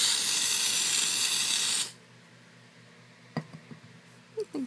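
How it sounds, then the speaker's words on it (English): Nail gel top coat sprays in one steady, close hissing burst lasting about two seconds and stopping abruptly, then a few soft clicks and small handling noises follow in near silence. "So I'm gonna spray again."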